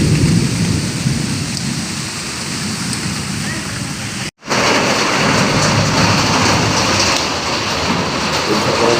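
Heavy monsoon rain pours down steadily with thunder rumbling through it, a loud continuous roar broken only by one brief gap.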